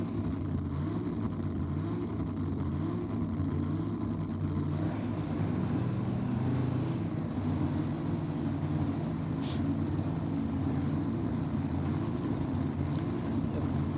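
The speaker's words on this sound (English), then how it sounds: "Sounds like supercharged Outlaws to me." Supercharged Outlaw drag racing cars at a Sydney dragway evening session, a heavy low engine roar and rumble droning steadily for the whole stretch, distant and sustained rather than a single sharp launch.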